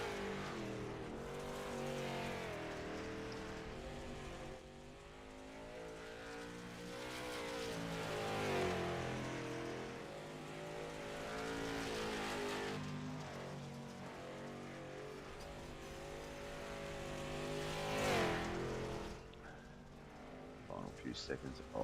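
Race car engines droning and shifting pitch on an iRacing oval track in a 50-lap feature race, a continuous layered roar with a voice talking over it throughout.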